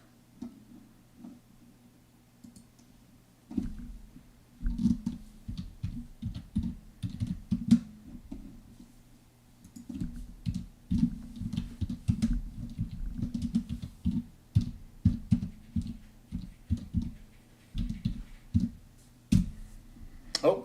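Someone types on a computer keyboard close by in uneven bursts of quick clicky keystrokes with short pauses, over a faint steady hum.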